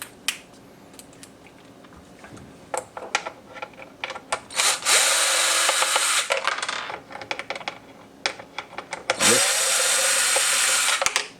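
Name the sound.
power drill removing Phillips head screws on Honda Grom fender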